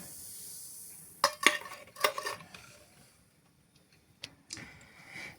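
Pancake batter with grated apple and vinegar-slaked baking soda being stirred in a bowl: a few scraping, clinking strokes around the one- to two-second mark and again near the end, fairly faint, with quiet stretches between and no talking.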